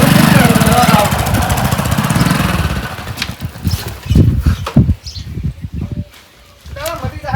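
Motorbike engine running loud and close with a buzzing idle, then revving in uneven bursts while people talk nearby and birds chirp faintly.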